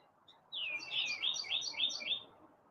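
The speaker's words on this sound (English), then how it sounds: "Oh, we got 2 blue jays" Two blue jays call outdoors in a quick run of bright, rising chirps that start abruptly and repeat in close succession for about two seconds, near and fairly clear over a soft background hiss.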